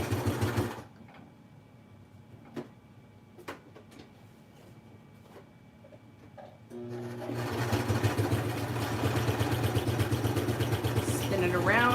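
Sewing machine stitching crisscross lines across an art journal page, starting with a short burst, a quiet pause with small taps, then a loud sustained mechanical whirr of rapid stitching running to the end.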